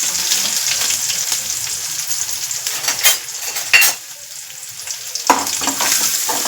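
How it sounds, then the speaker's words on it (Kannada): Chillies frying in hot oil in a pan, a loud continuous close sizzle, broken by a few sharp scrapes and clinks of a spoon stirring against the metal. "ಈಗ ಮೆಣಸಿನಕಾಯಿ ಹಾಕಬೇಕು ಮತ್ತು ಅದನ್ನು ಸ್ವಲ್ಪ ಕೆಂಪಗಾಗೋವರೆಗೂ ಹುರ್ಕೋಬೇಕು"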